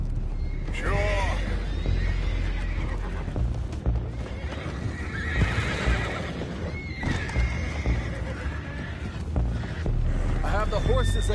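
Horses whinny and neigh repeatedly, several loud, shrill calls spread across the stretch, with hooves clip-clopping beneath them and people talking in the background.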